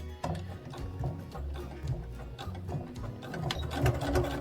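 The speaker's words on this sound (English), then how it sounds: "I'm going to sew about 3 millimeters away from the seam that I sewed here" A sewing machine stitches about 3 millimeters from an existing seam on a bear hoodie, a close, rapid mechanical whirring in short uneven bursts with brief pauses between runs.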